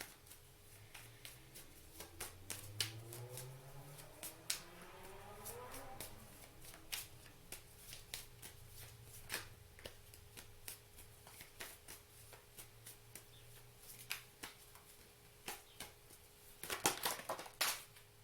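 Tarot cards shuffled by hand, a dense run of crisp riffling flicks and slaps with a few cards dropping, close and clear, with a low hum and a tonal sweep early on and a burst of rapid shuffling near the end.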